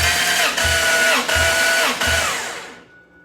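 A power drill bores the last hole for a fuel pump upgrade on an IS300. It runs in three close, loud bursts separated by brief pauses, then winds down to silence.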